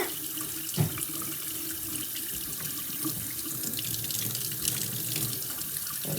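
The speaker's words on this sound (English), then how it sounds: "Put some hot water." Water pours steadily from a tap into a sink, a constant splashing hiss with a small clunk near the start.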